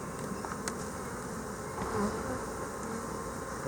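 Honey bees hum steadily around an open hive during a frame inspection, a continuous close, dense buzz with no talk over it.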